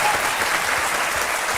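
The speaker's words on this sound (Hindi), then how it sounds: "तो ये तालियां बजते रहे।" Steady, full audience applause filling a television studio courtroom-style talk show, continuous dense clapping with crowd noise throughout the short stretch, no voices clear.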